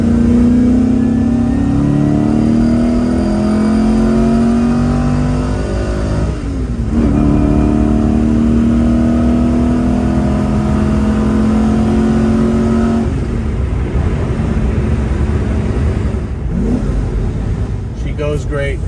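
A 1983 Aston Martin V8 Vantage engine climbs in pitch through repeated upshifts, revs dropping between gears, loud and close from the passenger seat, with a voice talking over it.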